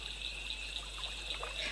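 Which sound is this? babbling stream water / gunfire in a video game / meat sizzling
babbling stream water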